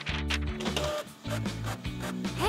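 A printer whirs and clacks steadily as it prints paper tickets, with stepped mechanical tones and rhythmic feed motion, loud and close, with no one speaking.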